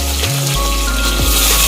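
Curry leaves and green chillies hitting hot oil in a home kitchen, giving a loud, steady crackling sizzle that runs without a break across the short moment.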